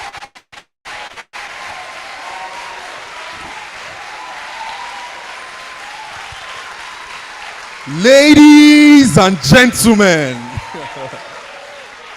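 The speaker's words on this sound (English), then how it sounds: "another round of applause for Miss Ella, please" An audience at a dentistry conference keeps up a steady ripple of applause that runs throughout, while a presenter's voice speaks over it loudly near the end.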